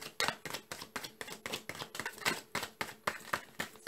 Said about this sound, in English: This is going to be the last shuffle.